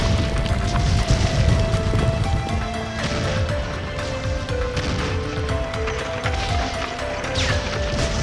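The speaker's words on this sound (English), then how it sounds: "there was a huge explosion and the roof was destroyed" A huge cartoon explosion tears apart a roof, dense booming and crashing rumble continuously at high volume, with debris-like clatter throughout.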